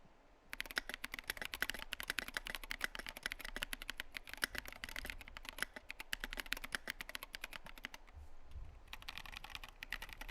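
Fast, steady typing on an ID80 mechanical keyboard build with SA Vileboom keycaps and rattly stabilizers, a dense run of close, quiet clacks that pauses briefly near the end and then resumes.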